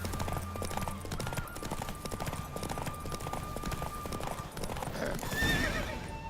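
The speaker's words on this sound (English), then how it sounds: "Don't spare the horse." Steady, rapid hoofbeats of a galloping horse in The Witcher 3: Wild Hunt drum along throughout, ending with a short neighing whinny near the close.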